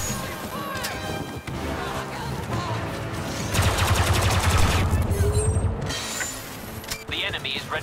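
Blaster gunfire in the video game Star Wars Battlefront 2, with a dense rattle of rapid shots layered over mechanical clatter and battle noise, swelling midway and then easing off, with voices heard amid the fighting.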